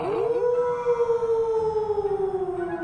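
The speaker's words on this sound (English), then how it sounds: "They howled with excitement. Someone howled back." A drawn-out howl from a read-aloud story sound effect, a single long wavering wail that slides down in pitch and carries steadily across the whole stretch.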